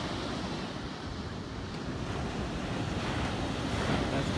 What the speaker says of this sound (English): It's kind of raging today. So, only about knee deep with the waves here.